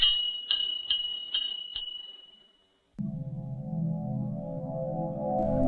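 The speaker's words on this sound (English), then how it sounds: "the bell on his shop door tinkled along with his laughter" A shop door bell tinkles in a few bright, evenly spaced rings that fade out, followed by a low, steady hum.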